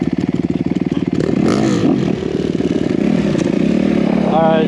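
A 2021 Honda CRF250R dirt bike engine chugs close by with a rapid, throbbing idle that swells in brief revs, while a person talks over it.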